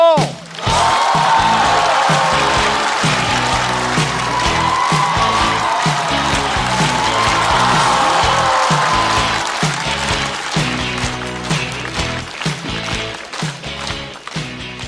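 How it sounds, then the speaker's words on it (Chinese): A stand-up comedy audience bursts into loud, sustained applause with cheers and whoops at a performer's introduction, music playing under the dense clapping, which thins toward the end. "掌声欢迎大国手"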